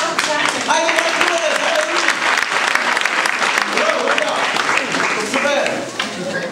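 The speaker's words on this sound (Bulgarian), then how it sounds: "Ръкопляскайте, бе, брати, и сестри" A congregation claps in a church hall during an Easter Resurrection service in Razlog, a dense, steady applause that fills the room for several seconds while voices call out over it and then fades slightly at the end.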